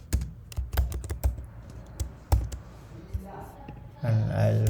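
Python code typed on a computer keyboard: a run of sharp, close key clicks in irregular bursts, followed by a louder sustained noise near the end, with no talk over it.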